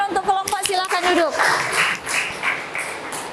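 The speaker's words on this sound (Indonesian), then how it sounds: "Tepuk tangan untuk kelompok." Classroom applause for a student group after a biology presentation, several people clapping close by and fairly briefly, following a spoken voice at the start.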